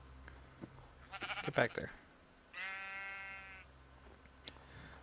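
Sheep bleating in the video game Minecraft: one drawn-out, wavering bleat rings clearly after a burst of a man's speech, with a few faint game clicks around it.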